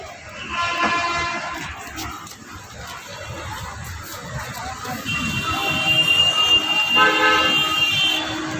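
A train horn sounds at Vizag railway station, tonal blasts near the start and again later over a busy rumbling station background with distant voices.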